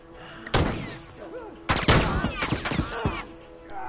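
Bursts of gunfire crack and echo in a multiplayer match of The Last of Us: one shot, then a rapid cluster of shots, loud and close with whizzing tails, with no talk.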